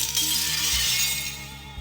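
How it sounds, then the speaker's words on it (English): A glass door shatters from a gong echo in the adventure game Reah, producing a bright, close crash of breaking glass. Low tonal ringing lingers underneath as the shards fade out over a couple of seconds. "you need to hit 4 gongs in the correct sequence to create an echo that will shatter a glass door"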